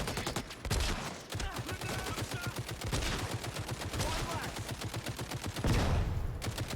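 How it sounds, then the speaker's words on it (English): A grenade blast in the shooter game Caliber, heard amid dense, rapid gunfire that runs throughout, with a heavier burst near the end; bursts are loud and close with no talk. "That was a grenade."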